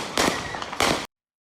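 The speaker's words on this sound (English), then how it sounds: "Oh, they shoot." Two sharp, loud gunshots crack in quick succession, less than a second apart, heard through recorded footage, each with a short ringing tail before the sound cuts off abruptly.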